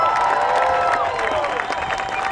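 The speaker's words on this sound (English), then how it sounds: "So please give her a big round of applause." Crowd applause with cheering and whoops at an outdoor anti-Monsanto march rally in Orlando, Florida, a loud, busy mix of clapping and raised voices that carries evenly across the moment.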